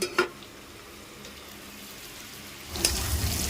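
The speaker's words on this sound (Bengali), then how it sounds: "পেঁপে আর আলু এবারে খুব ভালোভাবে কষে নেব" Papaya and potato fry in a pan with a low steady sizzle, a couple of utensil clinks at the start and a louder scraping stir near the end.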